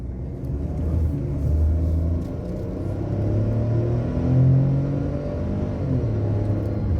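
A 2021 Ford Bronco Sport driving, heard from inside as a steady low road and engine rumble with mild swells in level, continuous throughout and without talk.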